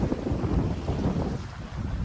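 Strong wind blows over the Dnieper river on a gusty day with small waves, roaring steadily across the microphone in a dense, continuous rush with low buffeting that never lets up.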